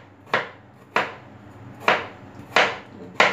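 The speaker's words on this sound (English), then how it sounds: "Dice this little by little" A knife dicing potatoes on a cutting board for potato fufu, five or six sharp, close chops at an uneven, unhurried pace, with quiet pauses between strokes.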